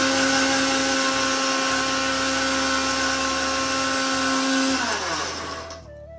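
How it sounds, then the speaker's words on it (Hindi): Kitchen mixer grinder whirring loud and steady while grinding buknu spice mix, a sustained motor hum that winds down and stops near the end, with no talk over it. "मिक्सी चलाओ तो मिक्सी चलाओ"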